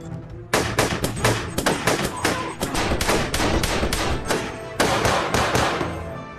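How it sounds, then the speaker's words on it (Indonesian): Gunfire in a film shootout between troops and terrorists, rapid bursts of sharp, loud shots in quick irregular succession with a brief pause midway before the firing resumes. "Dan baku tembak antar mereka pun tidak bisa lagi terelakkan."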